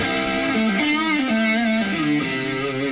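A Godin Session HG electric guitar plays sustained notes through heavy distortion, thick and buzzing, loud and continuous, with a few slides between pitches.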